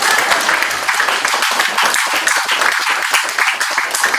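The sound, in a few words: audience clapping at a political rally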